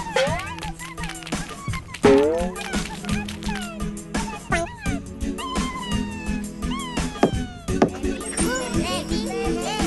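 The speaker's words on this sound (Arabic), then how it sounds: "يا قطتي يا قطتي أنت أنسي ومسرتي" A cartoon cat meows several times amid a bouncy children's song, the mewing woven between sung lines and music.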